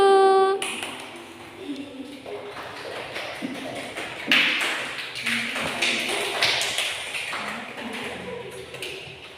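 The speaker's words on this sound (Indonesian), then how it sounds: "Coba tepuk tangan dulu." A school class claps hands in a classroom, a burst of many sharp overlapping claps that fades into scattered taps and shuffling, with a teacher's voice speaking around it.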